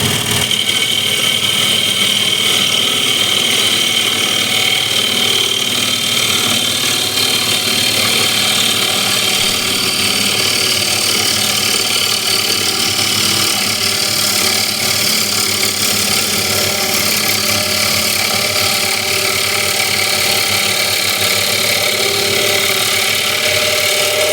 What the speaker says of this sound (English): what I'll do with the ball gouge, is make a nice shear cut all the way up to the rim